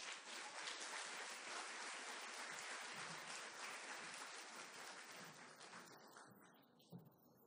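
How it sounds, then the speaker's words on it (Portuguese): Applause at a technology and intellectual property management event as a director is called up: a quiet, dense stretch of many hands clapping that slowly thins and fades out near the end. "A salva de palmas."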